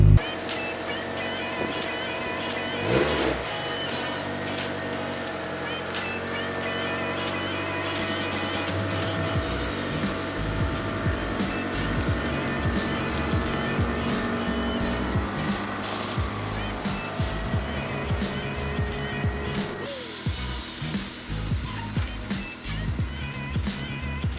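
A bagged Honda S2000 on air suspension drives through snow, its engine a steady, close drone with a brief shift in tone around two-thirds of the way through.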